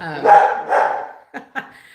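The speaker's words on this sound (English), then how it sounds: "your dog's really loud" Two dogs bark loudly and close in an echoey room, with a couple of long, drawn-out barks followed by two short sharp yips.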